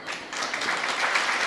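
An audience at a Jain religious gathering, a Siddhachakra Mahamandal Vidhan ceremony, claps together in a continuous, even burst of applause that stays steady and fairly loud throughout, with no voices over it.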